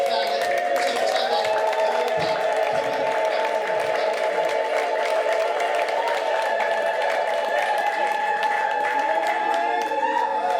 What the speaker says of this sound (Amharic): ለእግዚአብሔር ስም ከፍ ያለ ጭብጨባ